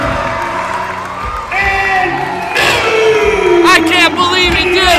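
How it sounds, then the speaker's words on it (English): A wrestling crowd in Plaquemine roars and whoops for a new heavyweight champion at a Fright Night show, a loud, continuous wall of cheering with a voice talking over it. "this crowd is going crazy here at Plaquemine"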